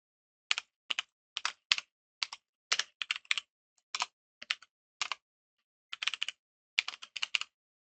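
Rapid typing on a computer keyboard while entering code, with bursts of crisp clicks and short pauses between them. The keys are close and clear, and no voice is heard.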